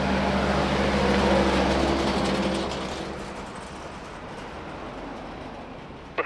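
An Embraer 190 jet departs runway 02 at Lisbon Airport with a loud, steady engine roar that fades noticeably after about three seconds and lingers as a distant rumble, with no talking.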